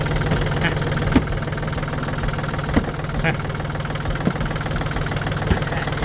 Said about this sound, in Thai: เปิดเครื่องนะ ก็ตัวนี้น่าจะเป็นบล็อกเครื่องของยันมานะครับ